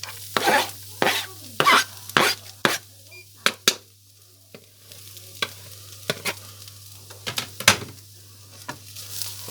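Garlic frying in a pan while being stirred, scraping strokes and clinks over a soft sizzle, close up, with a low hum underneath.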